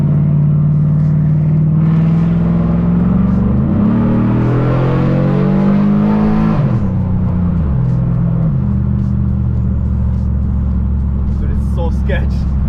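A Chevrolet Trailblazer SS truck with a swapped 4L80E transmission drives along with a steady, loud engine rumble and shifting tones, with someone talking throughout.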